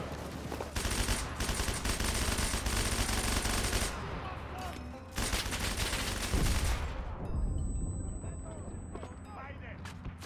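Automatic weapons fire in a video game: long, loud, rapid bursts of machine-gun shots that sustain for several seconds, pause briefly, then resume, with occasional speech underneath.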